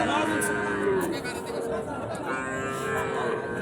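Cattle low among a murmuring crowd of voices, with people chattering and milling about in a busy, noisy open space at a cattle market in Panchbibi, Bangladesh, where desi heifer calves are sold.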